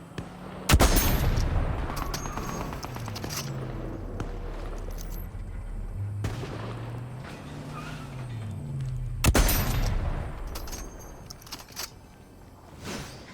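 Gunfire in a Fortnite Zero Build squads match, loud sharp shots with bursts of rapid fire spread through a busy game soundscape, no talk over it.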